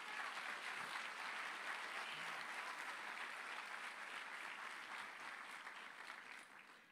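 Steady applause from a church congregation fills the space, dense and even, then eases off slightly toward the end.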